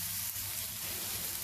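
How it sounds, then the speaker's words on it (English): Onions sauté in a pan for pohe, giving a steady close sizzle and crackle of frying with no talking. "So let's saute the onions till they become brown"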